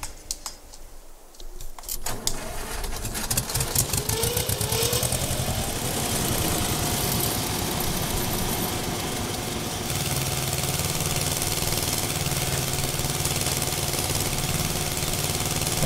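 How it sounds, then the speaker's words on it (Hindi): An Eicher 241 tractor engine in Farming Simulator 22 pulls under load with a loud, steady chugging drone that holds for the whole stretch after a few brief clicks at the start, with no talk. "अरे यार बढ़िया भाई खींच रहा है यार ट्रैक्टर देखो तो सही।"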